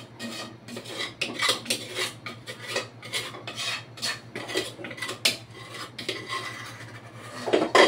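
A spoon or spatula scrapes the last of ginataang monggo from a cooking pot in a series of rasping, irregular metal-on-pot strokes, close and fairly loud, over a steady low hum.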